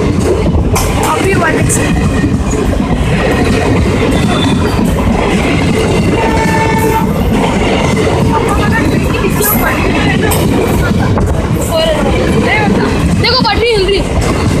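The Amravati Pune SF Express rumbles past on the track with loud, continuous rolling clatter and wheel noise close by, while people nearby talk excitedly over it throughout.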